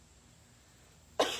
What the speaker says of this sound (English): I'm still recovering from my cold from last week, so I have a little bit of a residual cough